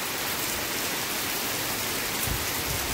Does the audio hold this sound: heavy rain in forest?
yes